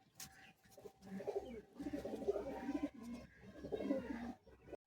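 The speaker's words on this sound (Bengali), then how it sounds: "একটি পায়রা" Madras pigeons coo repeatedly in a loft in Bagnan, a soft rolling burble in several close, moderately loud bursts with brief pauses between them.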